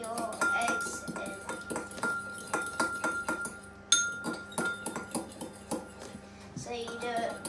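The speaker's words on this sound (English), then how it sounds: "you get a whisker or a fork, and then you whisk your eggs in" Eggs are whisked with a fork in a dish for a ham omelette: rapid, rhythmic metallic clinks and taps of the fork against the bowl, close and fairly bright, pausing briefly midway before resuming.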